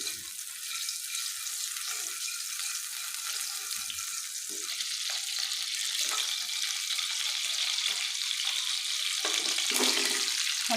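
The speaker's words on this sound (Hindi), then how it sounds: "पहले हम अंडे फ्राई करेंगे। उसके लिए हम थोड़ा सा इसमें घी डालेंगे।" Eggs fry in ghee in a kadhai, making a steady bright hiss and sizzle that slowly grows louder, with small bubbling pops. No voices are heard.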